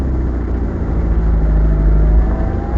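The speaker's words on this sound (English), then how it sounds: "I think I'll do a hill start" A 1971 Austin 1300GT's engine pulls steadily under load during a hill start, a loud, continuous mid-range drone with a faint rising whine, no voices over it.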